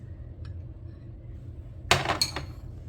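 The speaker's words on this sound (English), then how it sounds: "I'm spooning up some of the Oreos and I'm just mashing down in my glass" A spoon mashes Oreo cookies down into a glass for a dessert crust, heard as one brief burst of crunching and clinking after a quiet stretch, close and fairly loud.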